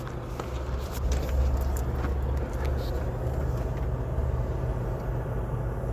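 A truck engine idles steadily at the exhaust pipe on the passenger side, a continuous low rumble that holds at an even level throughout, close by.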